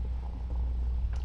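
A tiny kitten purrs steadily and close, a low continuous rumble with no voices over it.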